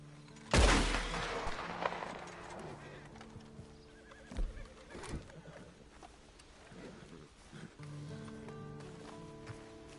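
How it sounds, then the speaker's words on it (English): A horse whinnies loudly near the start in Red Dead Redemption, followed by scattered hoof thuds and rustling over a low steady background hum. "Then you better get on this horse."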